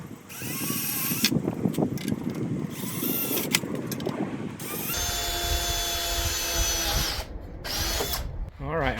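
A power drill whirs in short bursts while drilling holes, then runs in a longer steady whine, close by and fairly loud, with brief pauses between runs.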